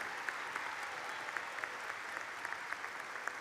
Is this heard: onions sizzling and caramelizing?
no